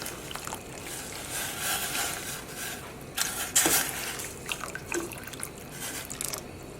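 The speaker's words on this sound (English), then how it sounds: "I'm going to kind of pour it around slowly the exterior of our yarn" Liquid dye pours and splashes intermittently over a yarn cake, trickling and dripping with a few louder gushes, close by and fairly quiet.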